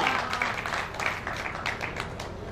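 Hindi comic poetry recital audience clapping, a short dense burst of applause in a hall, fairly loud and continuous, with no words spoken.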